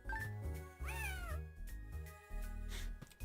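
Cat meowing in a video game, heard up close and alone as one long, bending meow amid low droning game sounds, with short breaks between bursts.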